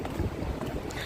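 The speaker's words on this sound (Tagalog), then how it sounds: "Mahangin. Tingnan mo, mahangin." Steady rushing wind buffeting outdoors along a walk toward a train station in West Bay, Doha, a broad continuous roar with gusty fluctuations and no voices.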